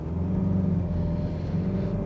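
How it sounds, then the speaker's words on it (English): Engine of a 2016 Alfa Romeo Giulia Super with an automatic gearbox in Drive, a steady, loud low rumble holding throughout as it revs before shifting, heard from inside without speech. "if you put the car in D, you hear that it's revving higher before it shifts"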